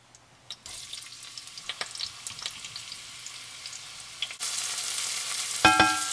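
Onions sizzle and fry in extra virgin olive oil in a pan, with steady crackling and occasional stirring. The frying grows louder and brighter toward the end, and there is no talking.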